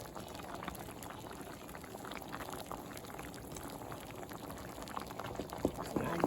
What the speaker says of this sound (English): Stir it all up, then add your seasonings.